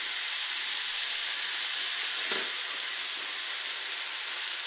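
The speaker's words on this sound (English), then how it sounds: "these are going to be going to caramelize these onions" Onions cook in a pan for bangers and mash, caramelizing with a steady broad hiss and sizzle that holds constant throughout, with one small dip near the middle and no talking.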